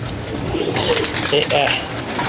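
Soft pigeon coos repeat over a steady background murmur, with low voices faintly present throughout.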